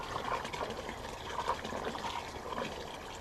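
Water being poured into a bird bath outdoors in Minnesota, a steady splashing trickle that runs continuously, close and moderately loud with no talking.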